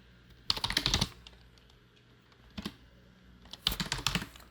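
A computer keyboard rattles in three short bursts of rapid typing as a terminal command is entered, close and crisp with quiet pauses between.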